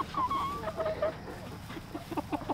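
Backyard chickens cluck and murmur close by as they are let out to scratch through feed spread over pig droppings, a run of soft, scattered clucks with no talk.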